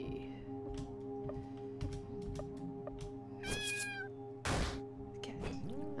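A cat meows repeatedly in the video game Lisa: several short, clear meows with a rising caterwaul-like cry, over steady game background music.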